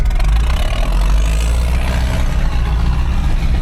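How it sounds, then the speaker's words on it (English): Loud, steady rumble of heavy tractor engines close by on a road in rural Slovenia, a continuous low drone that swells slightly as the tractors go past. "driving past noisy tractors"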